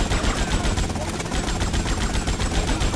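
Rapid automatic gunfire in Grand Theft Auto: Vice City, a loud, steady stream of shots rattling close by without pause for a few seconds, with a voice briefly heard underneath.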